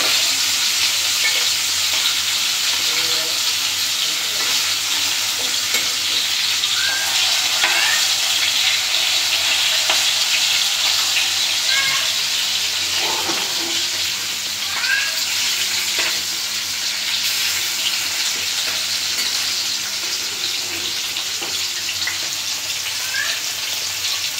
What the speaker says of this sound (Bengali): মাছটা এখন উল্টাই দিব। হালকা করেই ভাজবো, যেহেতু তরকারি দিয়ে রান্না করব।